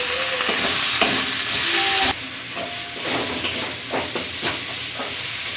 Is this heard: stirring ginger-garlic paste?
yes